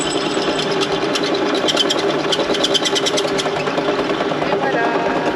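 A drill bores a hole into the geared hub heat sink cover of a Humvee, a steady mechanical whir with rapid rattling bursts, close and continuous.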